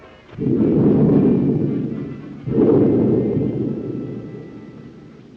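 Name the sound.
thunderstorm thunder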